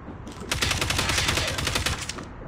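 Assault rifle gunfire in a video game, one loud, rapid automatic burst of about a dozen evenly spaced shots lasting under two seconds, with quiet game ambience before and after.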